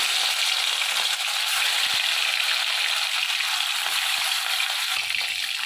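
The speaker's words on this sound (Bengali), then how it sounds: "তেলটা গরম হয়ে গেছে, মাছগুলো ভেজে নেব।" Fish fillets salted and frying in hot oil in a home kitchen for a Bengali fish curry, a steady dense sizzle with bright crackle holding close and loud throughout, no talk.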